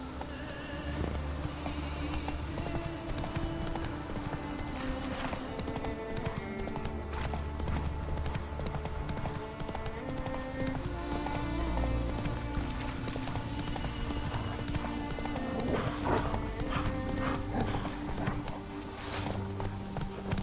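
Horse galloping in The Witcher 3 game, with rhythmic hoof clip-clops running continuously over a layered orchestral game soundtrack at moderate level.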